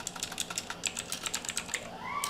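Fast, light clicking of keys on a computer keyboard, a quick irregular run of taps lasting a couple of seconds, close and fairly quiet, with a faint rising tone near the end.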